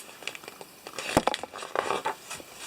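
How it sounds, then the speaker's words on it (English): Close, crinkly rustling and scuffling with irregular crackles and scrapes, building in a dense cluster and then tapering off, like something stirring just outside a tent. "a rustling, a scuffling sound coming nearer"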